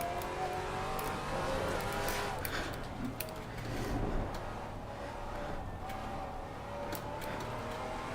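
Maserati MC12 GT4 engine in Assetto Corsa Competizione at Barcelona, racing at a steady high-revving drone with a brief dip as it shifts up, moderately loud with faint talk over it.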